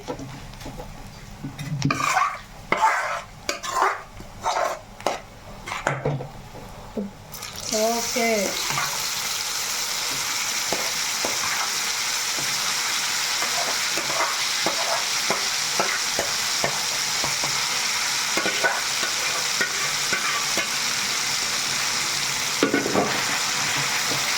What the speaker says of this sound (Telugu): తాలింపు చక్కగా వేగుతున్నాయి కాబట్టి మంచి ఫ్లేవర్ వస్తుంది